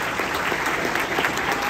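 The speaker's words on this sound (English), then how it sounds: "I want to give him a round of applause" Steady, full applause fills a graduation ceremony hall, a dense continuous clapping from a large audience with no pauses.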